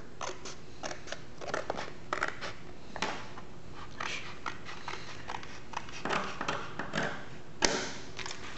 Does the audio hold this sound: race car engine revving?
no